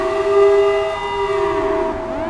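A steady, loud emergency siren at CIA headquarters wailing continuously, its pitch sliding downward near the end, with a low rumbling background.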